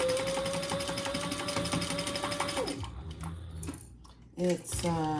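A sewing machine runs steadily at close range, stitching through clear vinyl for a bag, with a sustained motor drone that stops partway, followed by a few short handling noises.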